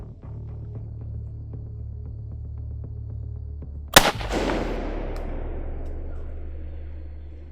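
A single rifle shot fired from a tree stand during a deer hunt cracks out loudly, then rolls away in a long fading echo over a low steady hum, with nothing else happening before or after.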